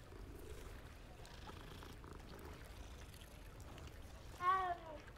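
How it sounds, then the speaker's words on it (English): A cat in the video game Hogwarts Legacy purrs softly while being petted, a low steady rumble under game ambience, followed by a short, louder higher-pitched cry near the end. "It's been a while since I've been able to pet a cat."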